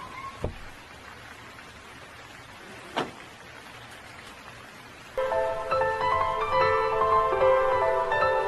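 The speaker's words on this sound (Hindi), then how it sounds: "ये मुंबई की बारिश है, इतनी जल्दी बंद नहीं होगी" Steady Mumbai rain falling, a soft continuous hiss with two sharp knocks early on, then a bright layered tonal sound joins over the rain near the end.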